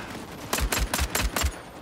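Five rapid bursts of automatic gunfire from the Vampire: The Masquerade multiplayer game, evenly spaced and loud over a low steady background.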